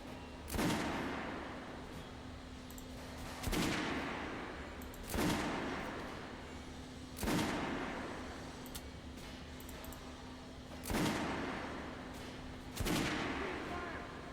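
Gunshots ring out in the shooter game Metro Last Light: about seven sharp, loud bursts at irregular intervals over a steady low hum, with faint voices shouting beneath.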